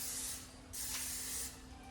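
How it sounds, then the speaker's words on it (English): Cooking pan spray hisses from an aerosol can in two short, close bursts while a spaghetti squash is being prepared, with a brief pause between them. "I'm gonna use the pan spray,"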